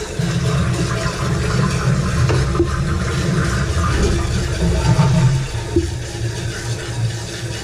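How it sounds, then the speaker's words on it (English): Toilet flushing during a leak repair: a loud, close rush of draining water followed by steady gurgling and refilling that continues throughout, alone. "And then we'll flush it and see where it goes on its own."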